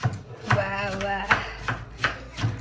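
A knife chops onions on a board in rhythmic, evenly spaced thuds, about two per second, close and clear with a brief tonal ring partway through. No voices.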